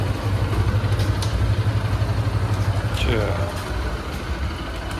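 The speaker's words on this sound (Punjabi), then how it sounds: "ਕਾਰ ਪਾਰਕਿੰਗ ਤੇ ਮੋਟਰਸਾਈਕਲ ਆਪਾਂ ਕਰਦੇ ਆ ਪਾਰਕ" A motorcycle being parked outside Gurdwara Manikaran Sahib, its engine idling with a low steady rumble and a clatter partway through, under outdoor background noise.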